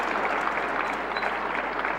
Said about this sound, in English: Applause from Alexander Petkovic.